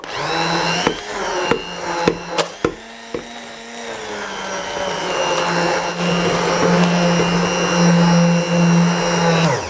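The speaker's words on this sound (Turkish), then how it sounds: "Şimdi güzelce el blenderı ile geçireceğim." A hand blender purees cooked apples simmered with lemon. A few sharp knocks come first, then a steady, loud motor whir that grows stronger and continues to the end.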